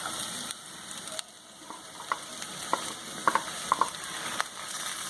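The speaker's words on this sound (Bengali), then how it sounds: "এবার এই সেদ্ধ করে রাখা মোচা দিয়ে দিতে হবে" Boiled banana flower going into a pan of frying spice paste, a soft steady sizzle punctuated by a few sharp clinks and scrapes of a spoon against the pan.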